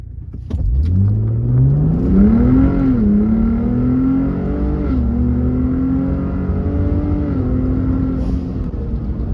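A Ford Raptor truck accelerates hard in sport mode on a backroad, engine note climbing through gears with a brief dip at a shift, loud and close throughout.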